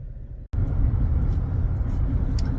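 A Cadillac XT5 V6 AWD SUV on the road, heard from inside: after a brief quiet moment and a sharp cut, a steady loud low rumble of engine and road noise with faint ticks above it.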